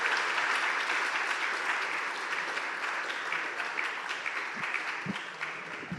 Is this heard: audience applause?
yes